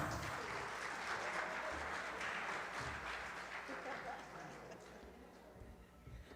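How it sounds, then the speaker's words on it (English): Audience applause welcoming a speaker onto the stage at the opening ceremony of a reconciliation gathering for Mother Africa, a broad steady wash of clapping that slowly fades, with talk mixed in beneath it. "Give her a round of applause."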